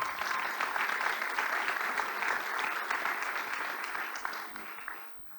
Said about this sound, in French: Bravo à eux, vous pouvez les applaudir.